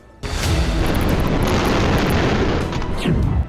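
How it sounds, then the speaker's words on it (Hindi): A massive blast at a grain warehouse in Turkey's Derince port erupts suddenly into a sustained, deep, roaring rumble that fills several seconds, heard from a distance with no talk over it. "तुर्की पोर्ट पर बने अनाज गोदाम में अचानक धमाका हुआ और पूरा शहर इस धमाके से दहल उठा।"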